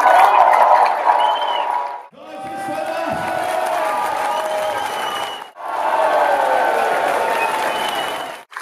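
A crowd at a German Schützenfest claps and cheers for the shooting queen, loud sustained applause with whoops, broken by two brief pauses before surging again.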